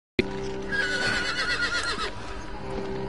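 A horse in the video game Resident Evil Village gives a loud, close whinny lasting about two seconds, starting abruptly, then fading into a low background hum.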